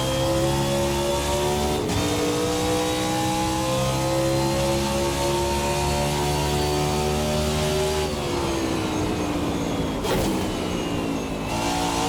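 Race car engine in the Hyperion 2020 racing sim, revving hard and winding up toward a roughly 9,300 rpm redline. The loud, continuous harmonic whine climbs steadily with brief drops at gear changes, alone without talk.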